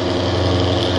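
A loud car engine idles steadily with a deep, rumbling exhaust note, newly fitted with an extended teardrop exhaust, the throb constant and close throughout with no voices.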